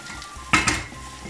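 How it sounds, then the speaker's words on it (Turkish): A spoon stirs rice pilaf in a pot during cooking: one short scraping, rustling stir with faint sizzling beneath, loud and close for a fraction of a second before quiet kitchen background returns. "Evet, bir taraftan da pilavımızı karıştıralım."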